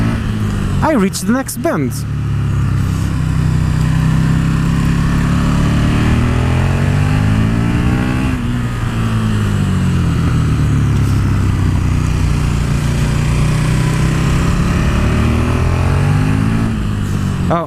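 KTM 1290 Super Duke R motorcycle engine pulling hard under throttle, a loud, continuous roar that rises and falls with rev changes, close and dominant, with a rider briefly speaking over it near the start.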